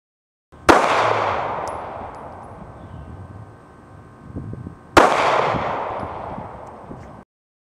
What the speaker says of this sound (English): we just shot the SIG 125 grain gold dot round